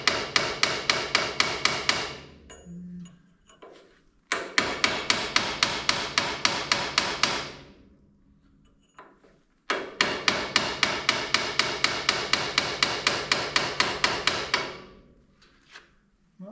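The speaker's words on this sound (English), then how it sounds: "Let's see if we can persuade it off of there with the chisel." A blunt chisel is hammered against the 1928 Allis Chalmers 20-35 tractor during splitting, producing sharp, evenly spaced metallic strikes in three long bursts separated by short pauses, loud and close.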